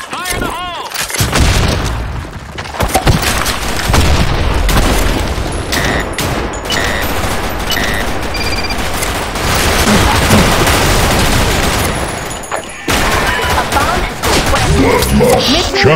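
In a video game battle, loud dense gunfire and booming grenade explosions roll on almost without a break, with a brief gap near the end before the shooting resumes.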